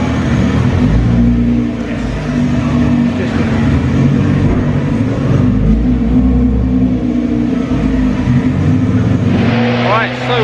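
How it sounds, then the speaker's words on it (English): A Nissan GT-R R35 fitted with an Armytrix valved exhaust runs on a dyno, giving a loud, steady engine drone and rumble that stays close throughout, with a rising rev sweep near the end. "we are at the dyno testing. That's my car right now."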